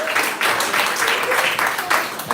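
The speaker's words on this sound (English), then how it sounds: "they deserve a round of applause" Short burst of audience applause at a live improv comedy show, several swells of clapping over about two seconds with a voice talking through it.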